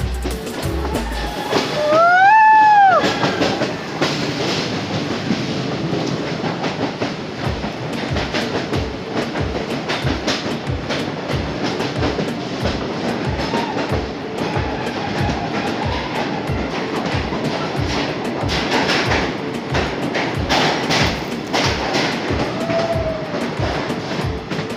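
A train runs through forest on the Dudhsagar route in Goa, wheels clattering in a steady rhythmic clickety-clack for the whole stretch, with a brief horn-like wail near the start and no talk over it.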